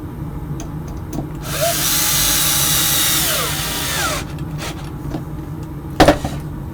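A power drill drives a screw into a folding table in one loud, close whirring burst of about three seconds. Light clicks and taps come before and after it, and a sharp knock follows later.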